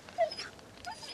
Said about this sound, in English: I wonder what's making the dogs so nervous